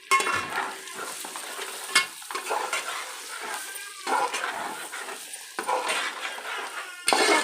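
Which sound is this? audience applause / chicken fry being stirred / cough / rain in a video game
chicken fry being stirred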